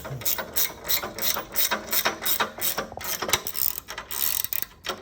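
A spanner ratchets a captive nut tight on an adventure motorcycle carrier rack, making rapid repeated clicking strokes in quick bursts, close up, with no talking.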